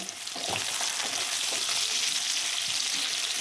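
Potatoes frying in a pan with ginger and panch phoron, a steady soft sizzle with light stirring scrapes, fairly quiet and continuous with no talk.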